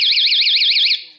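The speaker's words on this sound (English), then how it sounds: "The other thing that I have is this door stopping alarm." A door stop alarm emits a loud, shrill electronic warble rapidly up and down for about a second, then cuts off and fades.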